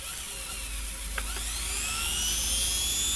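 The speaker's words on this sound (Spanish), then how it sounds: "El motor va a girar para el otro lado." A solar-powered DC electric motor with carbon brushes spins in reverse, giving a steady high-pitched whine that climbs slightly in pitch as it gains speed.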